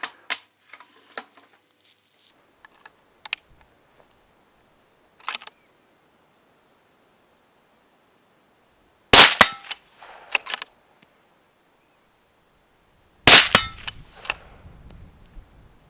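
Sharp metallic clicks and clacks of a Browning X-Bolt 2 Nordic Varitech .308 rifle bolt being worked open and closed, isolated bursts separated by long silences, close and crisp.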